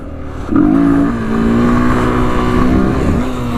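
A Honda XR200 motorcycle engine pulls in second gear at low revs, giving a loud, close, steady drone with a slight rise in pitch as it holds the throttle.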